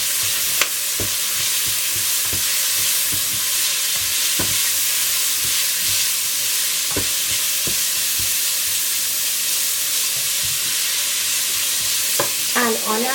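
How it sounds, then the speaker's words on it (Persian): Garlic and broad beans sizzle steadily in oil in a pan for a northern Iranian baghala ghatogh, loud and close, with occasional clinks of a stirring spoon scraping the pan. "ما باید یه مقدار این سیر و باقالی رو حسابی تفت بدیم"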